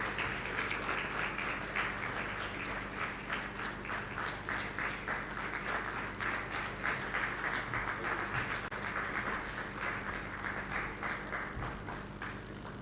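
A large audience keeps applauding at a TotalEnergies Startupper awards event in Nigeria, a continuous even roar of clapping that holds steady for several seconds without letting up.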